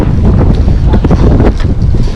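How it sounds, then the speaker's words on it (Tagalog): Strong wind gusts buffet the microphone beside a fishing pond, a loud, rough, continuous roar with pulsing low rumbles and no voices. "Sobrang lakas ng hangin."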